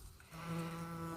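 Bees buzzing around a basket of freshly harvested lavender on a warm day: a steady, close drone that starts softly and swells into a continuous hum, with no one talking.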